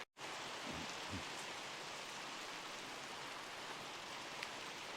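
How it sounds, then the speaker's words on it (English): Steady rain falls in a soft, continuous hiss, fairly quiet, with no voices, on an all-day rainy day in an Australian tomato garden. "Still raining."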